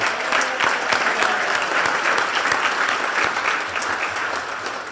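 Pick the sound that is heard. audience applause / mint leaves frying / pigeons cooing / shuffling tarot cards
audience applause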